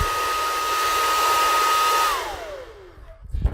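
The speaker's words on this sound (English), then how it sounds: "just a cheap old hairdryer to dry things out, warm your shoes up" A cheap old hairdryer blows steadily and loudly, used to thaw frozen drywall mud, its broadband whoosh with a motor whine holding level before the pitch drops as it is switched off and spins down.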